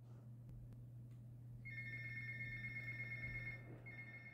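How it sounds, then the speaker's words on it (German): A telephone in a video game rings with a shrill electronic trill in two bursts, fairly quiet over a steady low hum. "Das Telefon hat immer völlig random geklingelt"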